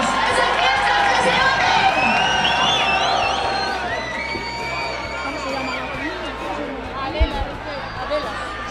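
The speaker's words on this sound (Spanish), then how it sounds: "que le deis un fuerte aplauso a Izana de Miguel" A festival crowd at the San Leonardo de Yagüe proclamation cheers, whoops and shouts loudly, children's high voices rising over the din, then settles into a lower hubbub with a few sharp claps near the end.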